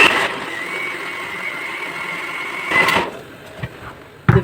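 An electric mixer beats cake batter with vanilla for a soft tea cake, giving a steady motor whir that then stops, followed by a few clunks and knocks.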